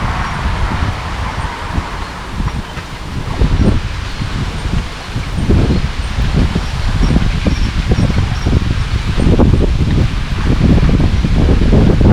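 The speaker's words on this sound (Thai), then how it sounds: "ลมแรงจริงเลยได้ยินเสียงลมไหมครับ" Strong wind gusting through trees beside a fish pond, a loud, steady rushing roar with rustling leaves that surges and eases over twelve seconds, with no voices.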